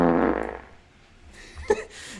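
A single buzzy, low fart breaks out right away during a casual live stream, fading after about half a second, followed by quieter rustling and a brief sharp knock.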